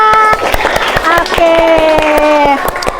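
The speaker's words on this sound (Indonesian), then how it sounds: "Tepuk tangan dong buat kita semua." A class of children gives applause in the classroom, rhythmic group clapping mixed with loud young voices talking and calling out over it.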